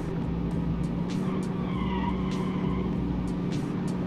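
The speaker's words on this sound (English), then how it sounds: "Locking the brakes." Tires squealing as the brakes lock on a 1980s affordable fleet car in a racing test, a moderate wavering screech over steady engine drone with no talking.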